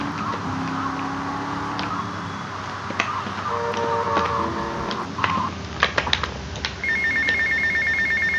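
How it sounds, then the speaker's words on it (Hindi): In GTA Vice City, an in-game phone rings with a steady electronic tone over a busy mix of game sounds, car noise and clicks, louder toward the end. "भाई फोन कर भाई, ये मैं अगले एपिसोड में उठाऊंगा।"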